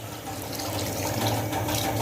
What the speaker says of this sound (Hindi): अब इसके अंदर मैं पानी डालता हूँ उसको शीरा बनाने के लिए